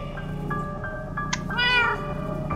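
Cat meows in Minecraft Story Mode, several short tonal mews leading to a louder drawn-out meow near the end, alone with game ambience underneath.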